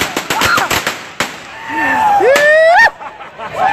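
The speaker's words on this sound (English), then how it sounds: "It's firecrackers." Firecrackers go off at a street march: a rapid run of sharp, loud cracks and pops in the first second, with a few more scattered bangs and whistling tones afterward.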